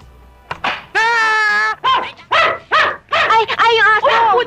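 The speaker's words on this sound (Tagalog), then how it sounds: "Ay, yung aso!" A poodle yelps and whines in a series of high, close, urgent cries, with short barks between them, in a comedy film scene.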